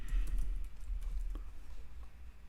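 Keys tap on a computer keyboard in a quick, light run over a low rumbling background, with nobody talking.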